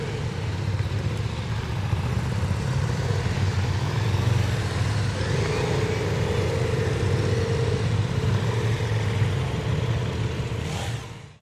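The engine of a 2019 KTM 790 Duke motorcycle rumbles loud and steady nearby as the bike rides along, with a slight change in pitch midway before the sound cuts off abruptly.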